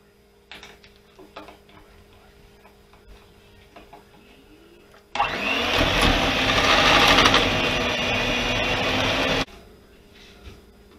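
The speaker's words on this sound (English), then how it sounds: "You're going to beat your butter and vanilla together" Electric hand mixer beats butter and vanilla for frosting in a home kitchen, a steady loud buzzing whir with rattling beaters that switches on sharply, runs about four seconds, then stops, leaving faint background noise.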